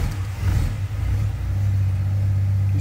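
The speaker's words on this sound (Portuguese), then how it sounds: "E barulho de motor de carro saindo." A car engine runs nearby as the car pulls away, a steady low rumble with a slight rise in revs and no voices.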